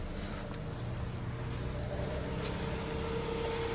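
Engine of a 2016 Jeep Cherokee with a communication fault idles steadily after being shifted into drive, a low, constant hum close by with no talking.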